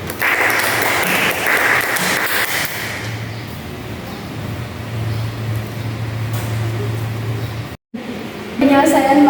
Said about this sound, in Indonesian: Beri tepuk tangan untuk Devi.